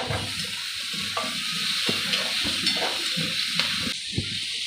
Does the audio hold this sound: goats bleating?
no